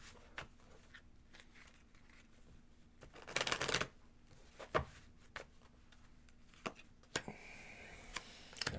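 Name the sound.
shuffling Lenormand fortune-telling cards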